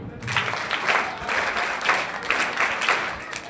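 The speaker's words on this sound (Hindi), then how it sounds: "बड़ी ताली पूरी।" A crowd claps loudly and steadily at an annual exam results announcement, dense applause sustained throughout without talk.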